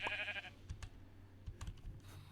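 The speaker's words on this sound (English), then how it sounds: "We'll be hearing baas." Sheep bleating in a blocky survival video game, a short faint bleat at the start followed by a few soft clicks and taps, quiet overall.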